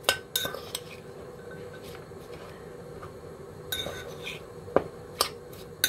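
A spoon stirs marinating onion in a bowl. Scattered clinks and scrapes come through at close range, fairly quiet, with a few sharper taps over a faint background hum.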